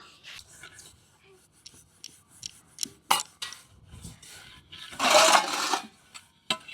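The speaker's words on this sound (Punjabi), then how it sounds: "ਲੋਕ ਇਦਾਂ ਹੀ ਭਾਂਡੇ ਮਾਂਜੀ ਜਾਂਦੇ ਪਏ ਆ" Dishes being scrubbed and washed by hand in a village home near the India–Pakistan border, with intermittent clinks and scraping of metal utensils, a louder rubbing burst in the middle, and faint talk in the background.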